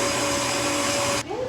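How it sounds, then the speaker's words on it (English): A KitchenAid electric mixer running at medium speed while creaming butter gives a loud, steady whir that cuts off abruptly near the end, with a brief change in tone as it stops. "I'm going to put that in our electric mixer, a handy dandy little KitchenAid."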